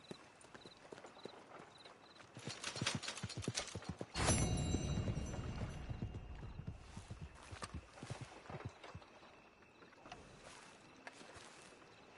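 A horse's hooves clip-clop in Red Dead Redemption 2, a steady rhythmic trot that carries on for the whole stretch alongside ambient game sounds, with a louder burst of noise partway through.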